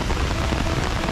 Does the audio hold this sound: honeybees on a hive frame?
no